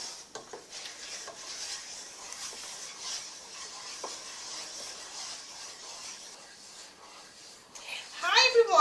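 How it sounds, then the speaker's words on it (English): A dark roux for gumbo is stirred continuously in a pot, giving a soft, steady scraping and rubbing hiss close by, with a brief louder rattle near the end. "So I'm going to keep stirring this roux and I'm going to keep fixing this roux"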